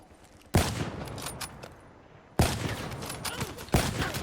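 Automatic gunfire in the Black Ops 3 beta, a first-person shooter: loud, rapid bursts that start abruptly, one sustained volley then another longer run with a fresh burst near the end, no talk.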